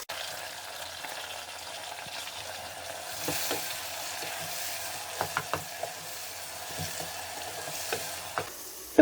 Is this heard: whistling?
no